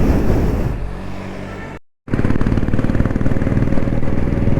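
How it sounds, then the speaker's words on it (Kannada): A 500cc BS6 Royal Enfield Bullet motorcycle engine runs close and loud with a rough, steady throb on the road, briefly cutting out to silence before resuming. "ವೇಣುದು ಬೈಕು 500cc ಅದು, BS6 ಇರೋದು."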